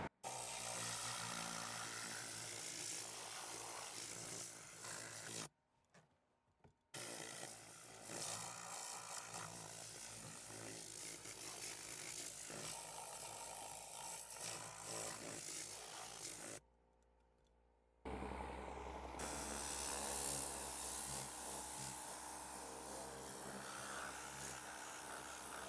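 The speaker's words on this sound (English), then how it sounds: "use my Tornador gun to go ahead and blow all this gunk out" Tornador air gun blasting debris out of a car interior, a loud continuous hiss with two short pauses, then a shift to a deeper rushing tone near the end.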